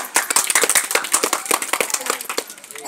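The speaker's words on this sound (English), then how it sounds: "Everybody clap." Children in a village school classroom clap together in a loud, rapid, uneven burst of many hand claps, close by and lasting about three seconds.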